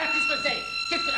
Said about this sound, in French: C'est le système d'alarme de la banque à côté qui s'est encore déréglé.